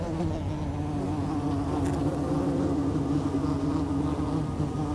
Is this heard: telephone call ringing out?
no